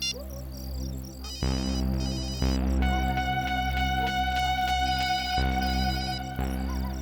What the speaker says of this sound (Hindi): नहीं सर, बेल तो बज रही है पर